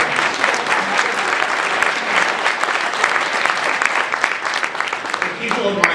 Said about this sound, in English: The people of MyoVision will be very glad that they got an applause.